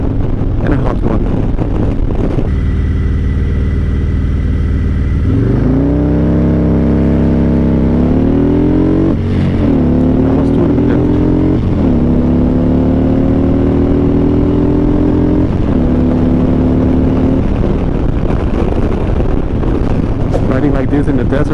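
Harley-Davidson Street Glide motorcycle ridden on a hot desert road near the Grand Canyon: a loud engine drone that climbs in pitch through several gear changes, with heavy wind buffeting the microphone throughout.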